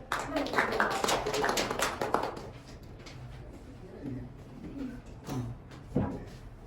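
Junior high students in a classroom burst into brief clapping that fades after about two seconds, then quieter voices and scattered taps follow.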